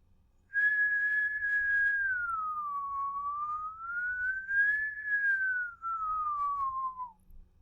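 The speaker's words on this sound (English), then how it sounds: "a whistle's a pretty clean sine wave." A person whistles one clean, pure tone that glides slowly up and down in pitch for about seven seconds, close and steady, with no talking.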